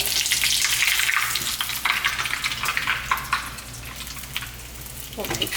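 Spring rolls deep frying in hot oil, a steady close crackling sizzle that runs throughout with faint stirring clinks and a few bubbling bursts near the end.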